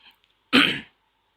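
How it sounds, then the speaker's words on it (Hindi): A single short, harsh cough or throat-clear, close and fairly loud, after a brief faint sound and then silence. "खांसी आ गई थी"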